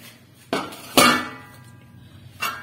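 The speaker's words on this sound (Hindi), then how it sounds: "इसको हम कूट लेते हैं, थोड़ा सा बारीक कर लेते हैं, पाउडर बना लेते हैं।" Roasted makhana (fox nuts) and jaggery pounded into powder for winter laddoos, heard as two sharp, close thuds followed by a lighter knock, with quiet gaps between strikes.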